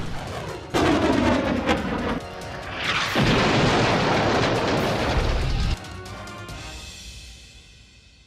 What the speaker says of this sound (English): Two S-19 Mista-S 152mm self-propelled howitzer was destroyed by a HIMARS strike.